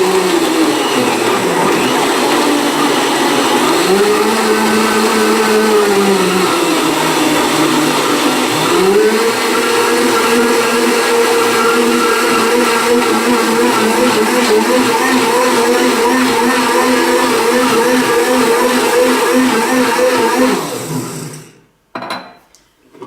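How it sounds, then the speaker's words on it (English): A loud blender whirs steadily for about twenty seconds while making a raw-food smoothie, its motor pitch dipping and rising briefly before it cuts off abruptly. "So I'm going to put the blender on again."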